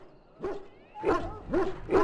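An ailing dog in Dragon Age: Origins barks four times, the first faint and short, the following three louder, close and spaced about half a second apart, with nobody talking.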